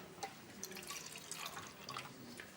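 Water trickles and drips into a glass in an indoor hospital setting, a soft splashing pour that runs steadily with small bright droplet sounds, alone without talk.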